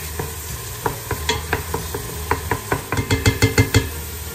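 Mixed minced meat browning in hot oil in a pot, with a close sizzle and a series of rhythmic scraping stirs that grow quicker and louder toward the end.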